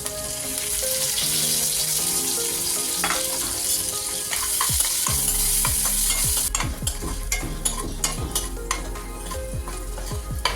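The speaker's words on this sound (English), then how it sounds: "Once the mustard seeds begin to crackle, I'll add some green chilies, some chopped garlic, some finely chopped ginger and lots of curry leaves." Green chilies, chopped garlic, ginger and curry leaves hit hot oil with mustard seeds, giving a loud continuous sizzle. Stirring scrapes run through it, and sharp crackles and pops grow busier in the second half.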